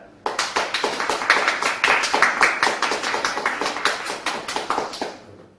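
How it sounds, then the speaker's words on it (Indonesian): Steady applause from a small group, a rapid run of sharp, evenly spaced claps starting abruptly and carrying on for several seconds before tapering off at the end. "Saya berikan aplaus kepada Anda."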